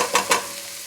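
African peanut butter soup cooks in a pot, a brief close sizzle with two quick stirring scrapes at the start before settling into a steady simmering hiss.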